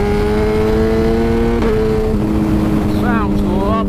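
A BMW 1000RR motorcycle engine holds a steady high drone, then revs and accelerates with rising pitch sweeps toward the end, loud and close.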